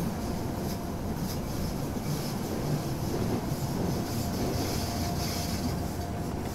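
A GTW passenger train runs close by with a steady, dense rolling rumble and rail hiss that stays even throughout, with no voices.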